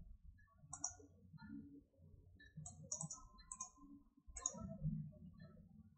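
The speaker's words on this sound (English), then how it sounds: "I'll go to geometry and right click," Faint, sharp computer mouse clicks sound while working in ANSYS Workbench during a static structural analysis, a few isolated clicks spaced seconds apart under quiet talking.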